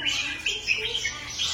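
Small colourful birds call at Chatuchak bird market in Bangkok, with sweet, high chirps and squawks overlapping in quick bursts, close by and without talk.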